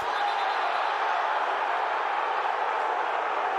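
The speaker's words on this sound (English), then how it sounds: "And you're hearing the crowd react." A stadium crowd at a 2023 XFL football game between the Seattle Sea Dragons and the St. Louis Battlehawks sends up a steady, dense roar that holds evenly from start to finish.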